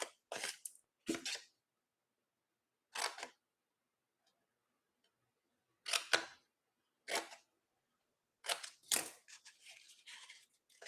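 Scissors cut cardstock tabs along score lines for a treat box, giving several crisp, close snips in short bursts with quiet pauses between them.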